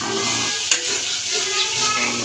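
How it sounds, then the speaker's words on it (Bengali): Fish roe fries in a pan with spices while being stirred, giving a dense constant sizzle with scraping and one sharp clack, loud and close with no speech. "আমি মাছের ডিমটা কড়াইতে দিয়ে দিচ্ছি। আর এটা ভালো করে নেড়ে চেড়ে"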